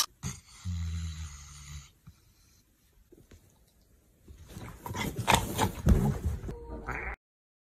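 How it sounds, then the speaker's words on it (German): A cat with a cold snores with a low, rattling, congested rasp, first a buzzy two-second breath, then quieter wheezy snuffles, ending in louder, wet, crackling noises close to the ear. "Wenn Mori erkältet ist und schnarcht."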